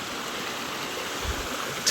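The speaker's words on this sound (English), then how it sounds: "But I did come prepared to wade through the creek." Creek water flows steadily along a hiking trail near Signal Point and Rainbow Lake, a continuous close rushing wash with a brief splash near the end and no talking.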